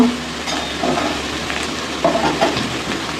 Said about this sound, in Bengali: দেখো আলু ভাজা করছি